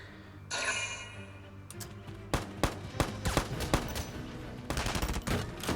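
Machine gun fire in Valkyria Chronicles 4, with sharp bursts of rapid shots in clustered volleys over a steady game backdrop, loud and close, with a short lull before a final burst.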